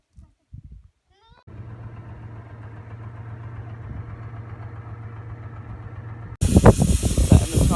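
Air hissing steadily out of a car tyre valve as the tyres are let down for a bumpy outback road in Western Australia, a long continuous hiss heard up close, followed by louder wind and handling noise.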